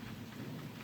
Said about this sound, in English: it's raining outside right now. And it's thundering also.